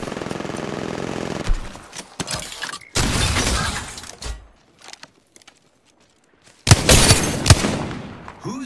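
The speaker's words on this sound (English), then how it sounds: "Opening fire on the enemy." Gunfire in the Apex Legends battle royale game, loud bursts of rapid shots separated by gaps of near silence, with sharp impacts and a final heavy volley.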